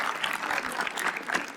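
Brief applause from a studio audience at a comedy roast show, a fairly soft, scattered patter of clapping hands lasting just over a second.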